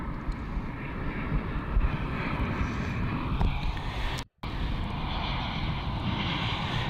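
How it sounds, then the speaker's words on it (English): A Norwegian Boeing 737-800 arriving from Barcelona at Copenhagen Airport roars with a broad, steady engine rumble from a distance, with a brief dropout in the sound partway through. "This is Norwegian flight D83657 from Barcelona, a 737-800."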